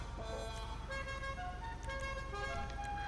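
Short electronic car horn toots sound a few times over a steady engine drone, with game-like synthetic tones in the background.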